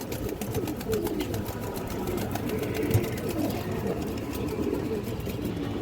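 Pigeons coo steadily in a coop of fancy breeds such as lal dobaj, musldom and highflyers, a continuous low murmur from several birds close by with no talk over it.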